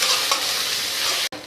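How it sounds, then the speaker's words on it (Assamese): Chopped onions sizzle in a pan over a raised gas flame, a steady loud broadband frying hiss with a faint stir near the start and a brief break just before the end. "পিঁয়াজখিনি মই ৰংচোৱা হোৱালৈকে ভাজিম"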